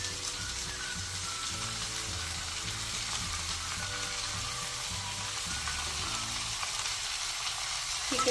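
Chicken pieces for a black sesame chicken curry hit a hot pan and fry in a steady, loud, continuous sizzle, with faint stirring clinks underneath and no talking.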